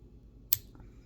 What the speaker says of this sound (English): Very, very sharp scissors.